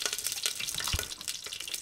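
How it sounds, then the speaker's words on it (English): Candle wax melting in a hobo stove crackles and pops with irregular, quiet sizzling bursts and one sharper pop, heard close up without talk. "We're melting those candles. Oh, they're popping."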